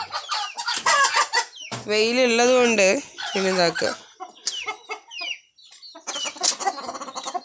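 Two chickens in a backyard coop cluck in loud, rising and falling calls up close, with bursts of cackling between stretches of a person talking nearby.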